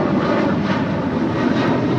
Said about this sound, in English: runway 25 right, there's takeoff